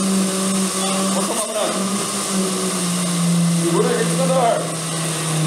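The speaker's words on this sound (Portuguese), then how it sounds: "Pode ligar o liquidificador." Kitchen blender whirs steadily while mixing gluten-free cake batter, a loud continuous motor hum with voices chatting over it.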